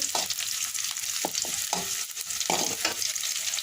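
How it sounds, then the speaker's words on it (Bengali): Bay leaf, cinnamon and cloves fry in hot oil in a pan, a constant crackling sizzle broken by several sharp scraping stirs of a spoon, near and clear with no talk. "তেজপাতা দারচিনি লবঙ্গ একটু নেড়ে চেড়ে নিচ্ছি"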